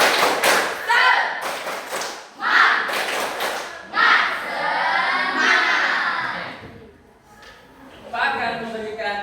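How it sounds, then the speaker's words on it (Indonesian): A classroom of children claps in a quick rhythmic pattern, sharp thuds in bursts with their voices chanting along between claps. "kita tepuk semangat ini satu kali"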